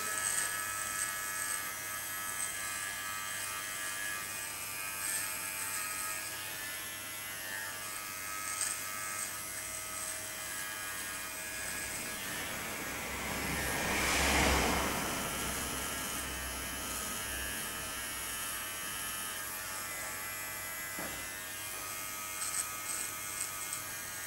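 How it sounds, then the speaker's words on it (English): Electric hair clippers with small blades buzz steadily close by while trimming around the edges of hair near the ear, a continuous hum that swells briefly midway. "I'm going to go around the edges now with the small clipper blades"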